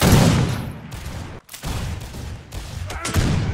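Heavy gunfire in a war video game, with dense sustained bursts and loud shots running almost continuously, broken by a brief lull before more firing resumes.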